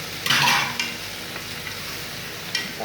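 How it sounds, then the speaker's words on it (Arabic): Potatoes and peas sautéing in a pan with onion and tomato, a loud hissing stir and sizzle at the start easing into a steady low frying crackle with a few scraping stirs. "نحط البطاطس على البسلة تتشوح معاها."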